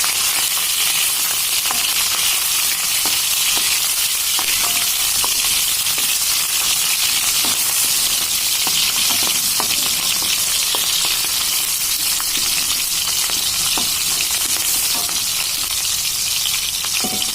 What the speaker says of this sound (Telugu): ఇందులో మనం తరిగి పెట్టుకున్న వామాకును కూడా వేసి వేయించుకుందాం.